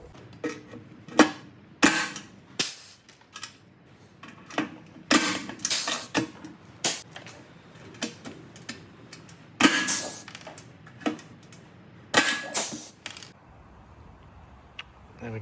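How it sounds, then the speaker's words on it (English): A cheap hand rivet gun setting alloy rivets on a boat tackle box seat lid, with a series of sharp metallic clicks and snaps in irregular bursts, close and fairly loud against a quiet background. "And of course, I've got a cheap rivet gun."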